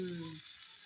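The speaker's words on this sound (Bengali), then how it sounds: "সবজিটা একটু ভাজা হোক আস্তে আস্তে" Vegetables fry slowly in oil in a village kitchen, giving a soft, steady hiss of sizzling. A short low tone sounds at the very start before the frying continues alone.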